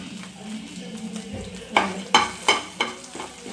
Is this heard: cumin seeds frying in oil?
yes